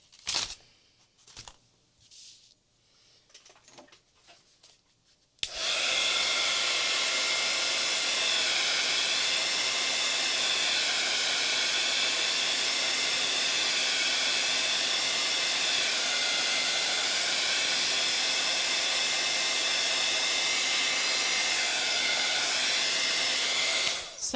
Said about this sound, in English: So while I'm drying this